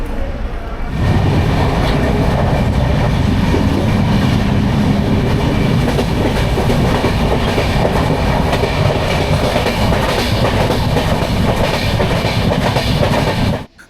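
An express train rumbles steadily along the tracks at about 130 km/h near Vasai Road, India, a loud, continuous roar with rattling wheel noise that holds unbroken until a sudden drop at the very end.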